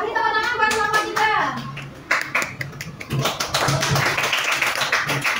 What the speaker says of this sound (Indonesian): Beri tepuk tangan buat kelompok 3.